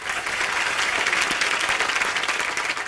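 Loud, sustained applause from a studio audience welcoming a singer onto a comedy talk show, a dense wash of clapping throughout with faint crowd noise.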